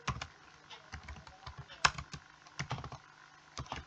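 Close computer keyboard typing while writing Python code, irregular clusters of clicks with one sharper key strike midway.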